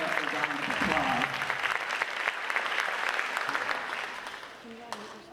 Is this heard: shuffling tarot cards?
no